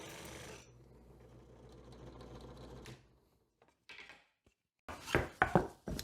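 A drill fitted with a Forstner bit bores a shallow hole in wood, producing a quiet steady whirring grind for about three seconds, followed by scattered taps and knocks of wood being handled.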